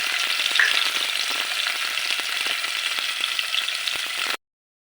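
Onions and chilies fry in oil for a snakehead fish and vegetable curry, a dense, bright crackling sizzle heard close and steady before cutting off abruptly near the end, with no voices.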